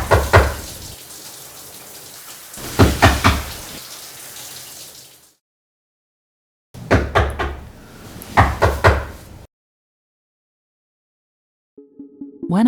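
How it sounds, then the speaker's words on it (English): Knocking on a door, heard as two loud clusters of rapid raps separated by a stretch of silence, with a faint low tone at the very end and no talking. "When I heard the knock on the door"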